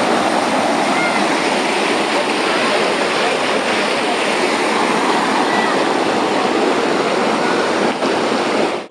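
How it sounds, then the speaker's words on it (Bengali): Flood water at Ghatal rushes through village houses in a loud, unbroken roar, a constant close wash of churning water from start to end. "এই সমস্ত বাড়ির মধ্য দিয়ে প্লাবনের জল হুসুর শব্দে চলে যাচ্ছে।"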